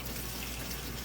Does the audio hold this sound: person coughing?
no